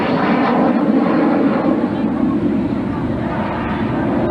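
Fixed-wing airplane engine droning steadily at an airshow, a broad continuous roar with wind buffeting and no clear change in pitch.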